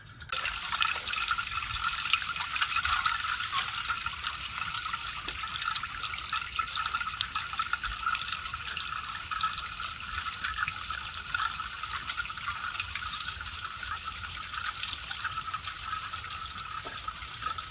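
Water from a garden hose pours steadily down a rain chain, a continuous bright splashing and trickling rush that starts abruptly and holds even and fairly loud throughout, with no voices.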